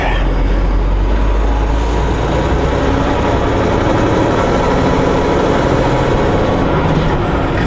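A truck engine drones loudly and steadily after a shift up to a higher manual gear on a mountain highway, a constant close rumble with no breaks.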